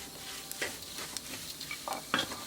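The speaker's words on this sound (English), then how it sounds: "I will bring the gas to simmer while I'm waiting on my almonds." Almonds roasting in a pan on a gas stove, a faint soft sizzle with light stirring scrapes and a few small clicks, close and quiet.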